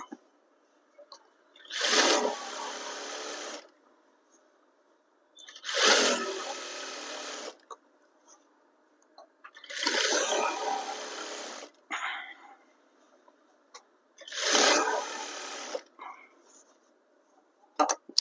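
A sewing machine stitches trousers in four separate bursts of about two seconds each, evenly spaced with quiet gaps between, the rapid mechanical chatter fairly close and clear.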